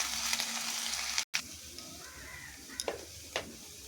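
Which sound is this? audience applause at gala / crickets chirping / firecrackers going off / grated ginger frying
grated ginger frying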